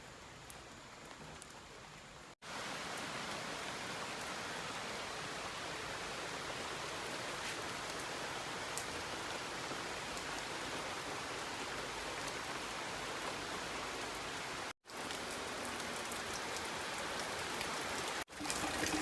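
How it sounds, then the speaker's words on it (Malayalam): Light rain falls steadily outdoors, a soft, even hiss of drops on surfaces holding at a constant level for most of the stretch with a couple of brief cuts, no voices. "ചെറുതായി മഴയും വന്നു തുടങ്ങി."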